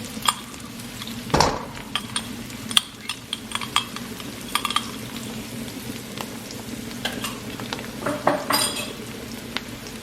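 Garlic sizzles in a pan, with onion already in, while cooking pancit bihon. There is a steady close frying hiss with scattered clinks and scrapes of a utensil stirring against the pan.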